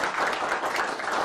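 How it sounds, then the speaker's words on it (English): Audience applause after a talk on the history of photography, a steady dense clapping wash filling the whole moment at close range, without voices. "give Destiny a big round of applause"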